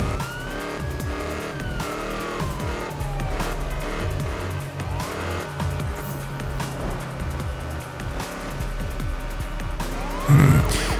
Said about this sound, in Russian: Полицейские едут, сбивают все на своем пути.